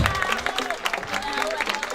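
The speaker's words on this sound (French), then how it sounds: "Merci d'applaudir très fort" Audience at a fashion week show applauding, brief scattered clapping and crowd noise under a presenter's voice over an amplified sound system, moderately loud.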